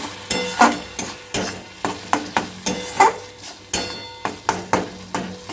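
Tomato paste and ketchup being stirred in a frying pan over medium flame, with rhythmic spatula strokes scraping the pan about twice a second over a steady sizzle.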